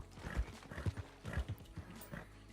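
Horse hooves clip-clopping in Red Dead Redemption 2: several uneven, close thuds of hoofbeats at a walking pace, fairly quiet, with no voices.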